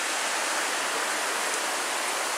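Steady broadband rush of the Cadence River flowing along the Superior Hiking Trail near Lake Superior, a constant hiss of moving water heard from the riverbank without any voices.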